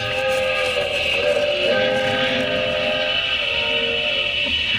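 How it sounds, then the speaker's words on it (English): A slow train rumbles along continuously near Denver, crossing toward a long trestle, with sustained tonal whistle-like hums layered over the steady roar, fairly loud and unbroken. "I'd get aboard that train if it weren't so slow."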